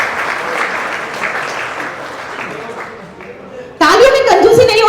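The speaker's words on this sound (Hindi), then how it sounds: "तालियों में कंजूसी नहीं होनी चाहिए." Applause from the audience at a Realme 14T phone launch event carries on under talk and fades slightly, then a loud voice cuts in over the clapping near the end.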